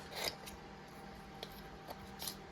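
Quiet snips of scissors cutting double-sided tape for nail foils, several short soft cuts spaced irregularly over low background hiss.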